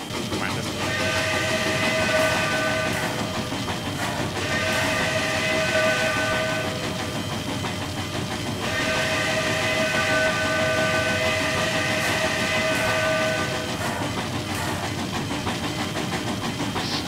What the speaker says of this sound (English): Somebody pulled a short whistle blast.